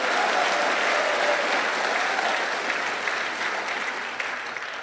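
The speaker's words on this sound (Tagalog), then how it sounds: "Mahinang pumalakpak mga tao rito." A church congregation claps steadily, a dense, even patter of many hands close by that holds for several seconds and eases slightly toward the end, with no voices.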